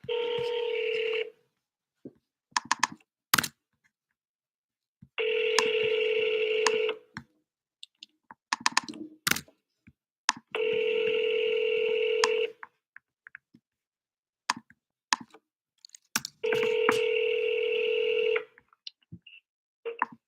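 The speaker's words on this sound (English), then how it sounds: "I just skip traced it to try to get somebody on the phone." Outgoing ringback tones on a phone during a real estate cold call come as four long, evenly spaced rings separated by quiet gaps filled with faint clicks and key taps.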